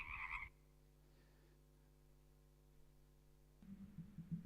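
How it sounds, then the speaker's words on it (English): Frog croak slowed far down into a deep, steady, sustained drone lasting several seconds, framed by brief brighter croak sounds at the start and end, fairly faint and with no talking. "I took the sound of the frog and I slowed it down."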